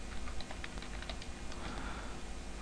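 Keys on a computer keyboard clatter in quick, soft, close taps, a brief run of typing that ends with the Enter key being pressed, with no one speaking.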